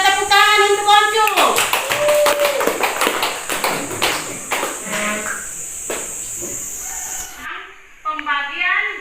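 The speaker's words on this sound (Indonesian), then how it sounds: "Kita tepuk tangan untuk Oncu." Applause for a pupil in a third-grade elementary school classroom in Indonesia: a room of hands claps steadily for several seconds, with a brief voice speaking just before and again as the clapping dies away.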